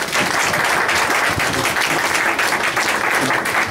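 A crowd gives sustained, dense applause, an even wash of many hands clapping at close range for nearly four seconds with no clear talk.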